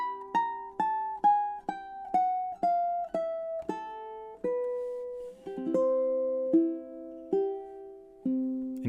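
Ukulele plays the ending of Chopin's Nocturne Op. 9 No. 2, a descending run of single plucked notes that slows into sustained chords and a final arpeggio, soft and close, with no voice.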